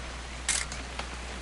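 A camera shutter clicks once in the video game What Remains of Edith Finch, a sharp bright snap followed by a fainter mechanical click, alone over a quiet background hum.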